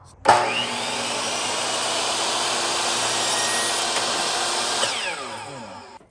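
A power saw cuts through wooden baseboard trim in one steady, loud, close whine of about four and a half seconds. It starts abruptly, holds a continuous pitch, then winds down.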